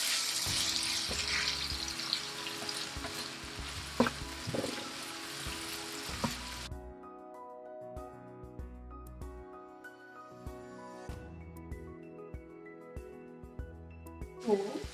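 Onions with turmeric and salt sizzle steadily in a pan, a loud bright frying hiss for the first several seconds, then quieter crackling with clinks and soft handling noises.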